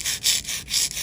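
A file reshapes glued-on nail tips in quick, rhythmic back-and-forth rasping strokes, about four close, bright scrapes in quick succession, with no talking.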